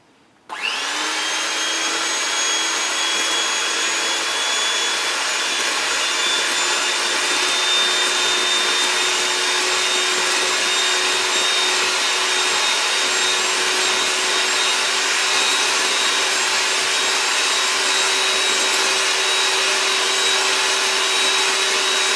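A steady, loud electric mixer whirs without a break as it whips cream with sugar for a homemade cake, starting abruptly and running alone with no talking.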